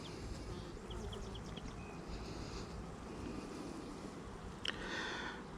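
Honey bees buzzing around an open hive during an inspection after a bear attack, a soft continuous outdoor drone with faint wind, no voices.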